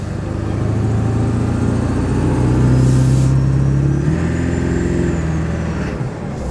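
Ford 7.3 Powerstroke diesel pickup on its factory stock tune, engine droning loud and steady from inside the cab as it drives and pulls, with a brief hiss midway and no speech.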